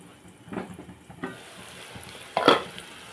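Sliced onions softening in a pan for egg curry, a quiet low sizzle broken by a few stirring scrapes and one louder clatter near the end.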